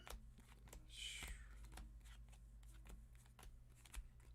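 A $300 trading card game deck shuffled by hand, a brief crisp riffle of cards near the mic around the one-second mark, followed by faint handling clicks over a low steady hum.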